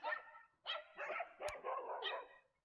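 Dogs barking in outdoor hill country, several faint sharp barks and yips in quick bursts, fairly distant, no talking.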